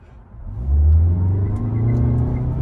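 A Mazda CX-5 pulls away hard from a green light, its engine rising into a loud, steady, close rumble as the SUV accelerates.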